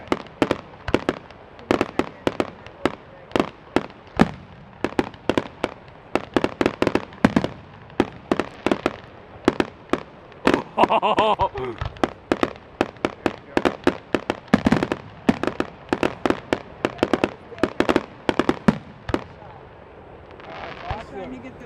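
A long barrage of fireworks bangs and deep thumping booms from thumpers at a hot air balloon festival in Lancaster, many loud reports in quick succession, with people talking now and then between blasts.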